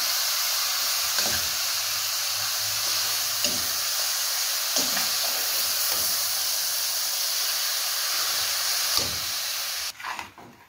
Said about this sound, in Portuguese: Vou acrescentar o tomate. E vamos misturar tudo junto aqui.